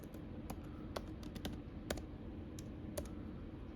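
A password is typed on a computer keyboard, steady close key clicks in an irregular run of taps over a faint constant hum, with no talking.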